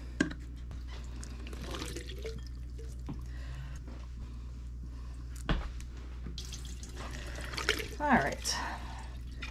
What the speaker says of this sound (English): So you're going to want to drain it and rinse them